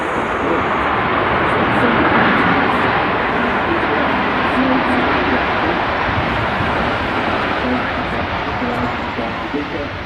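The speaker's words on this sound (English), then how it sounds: "Textbook touchdown there from the Jet2." A Jet2 airliner touching down on landing at Manchester Airport, a loud, steady roar of engines and rushing air filling the whole stretch, with a voice talking over it.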